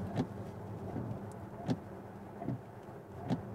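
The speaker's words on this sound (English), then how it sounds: "it's a silent car normally, unless it rains and you have to put the wipers on, and then you get this noise" Windscreen wipers on a Tesla Model S electric car sweep with a regular rhythmic thump-and-squeak about every three quarters of a second, fairly faint over a low cabin rumble.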